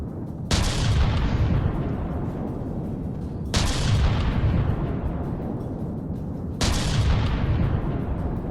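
Three close, booming cannon shots ring out in a tank combat game, about three seconds apart, each a sharp loud blast trailing into a long rumbling decay, with no voices.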